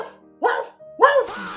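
A man imitates a dog with his voice, giving two short, sharp barks in quick succession, close and loud against otherwise quiet surroundings.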